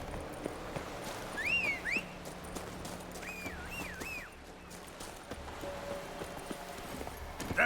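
Horse Roach from The Witcher 3 moving at a rhythmic clip-clop of hooves, moderately near, with a few whistling or wavering tones overhead and no speech.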